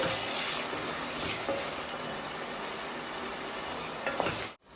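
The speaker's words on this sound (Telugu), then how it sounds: "టమాటాలు కట్ చేసి పెట్టుకుంటున్న టమాటాలు వేసుకున్నాము" Chopped tomatoes fry in oil for a village-style country chicken curry, a loud, continuous close sizzle with faint stirring and no talking.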